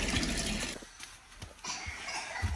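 Water in a home aquarium being changed, a bright splashing and pouring rush that stops briefly, trickles and gurgles at close range, then resumes.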